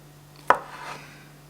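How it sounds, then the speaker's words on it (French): A knife strikes a small cutting board once, a single crisp close chop in a quiet home kitchen during salad preparation. "Je prends toujours cette planche pour couper parce que j'aime pas couper sur la grande que j'ai ici."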